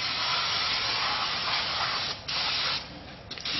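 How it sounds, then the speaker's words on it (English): Brake cleaner is sprayed from an aerosol can onto rear drum brake shoes, a steady close hiss that breaks off briefly twice near the end. "Spray the brake shoes down."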